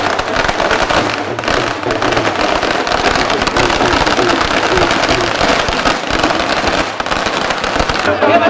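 Crackling fireworks and firecrackers at a BJP nomination rally with drums, rapid popping bursts continuing throughout amid dense crowd and street noise.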